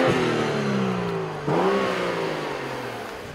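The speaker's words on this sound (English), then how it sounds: "That's a good sounding 6-cylinder." A 2014 BMW 435i xDrive straight-six revs loudly and close, its pitch climbing, dipping briefly, then rising again before tailing off, heard alone.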